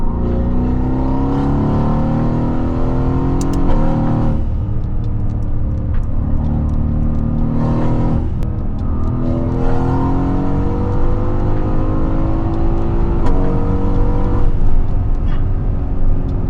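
Mercedes-AMG GT S with a V8 accelerating from inside the cabin, a loud deep engine roar rising through the revs, briefly easing at shifts before climbing again, with a steady low rumble throughout.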